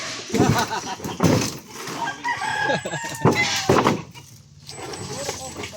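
A rooster crows a few times in the background, with lower-pitched sounds and clucking nearby while people talk over it.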